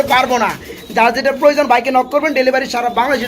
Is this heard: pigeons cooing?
yes